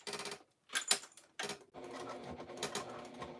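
A sewing machine stitches in short rapid bursts with brief pauses between, then runs in a longer continuous clattering run, close and clear.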